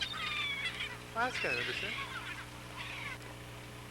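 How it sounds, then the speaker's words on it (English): Waterbirds call with goose-like honks over the water while feeding on small jumping fish near islands on a sailing trip; several calls sound at middle distance over steady boat and wind noise, with a person talking over them. "That's why the birds are having a heyday."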